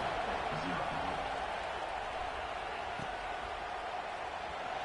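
Steady stadium crowd noise from the College Football 26 video game: a continuous broadband roar holding at an even level, with a buzzing, distant crowd texture and no distinct cheers standing out.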